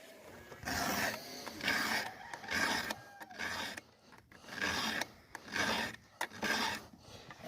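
A hand file rasps across a chainsaw tooth in repeated back-and-forth strokes, each a loud gritty scrape of about half a second, close up with short pauses between bursts.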